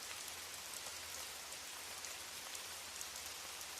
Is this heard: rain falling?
yes